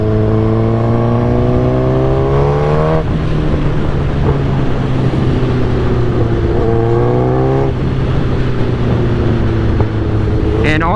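A 2008 Suzuki GSX-R 1000 sport bike fitted with velocity stacks revs up in a steady, close and loud drone, the pitch climbing and dropping twice across the run.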